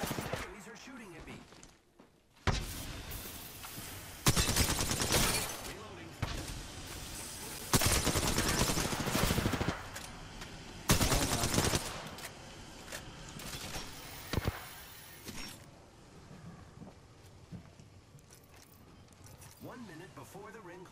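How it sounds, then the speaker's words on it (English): Several loud bursts of automatic gunfire ring out in an Apex Legends match, each lasting a second or two with quieter gaps between, then fading into softer movement sounds toward the end. "These are shooting at me."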